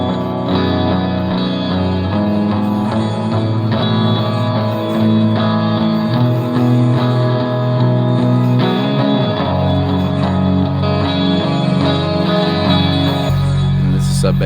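A chord progression in an electronic track, dense sustained harmonic chords layered over a deep low end, changing slowly with a brief shift near the end.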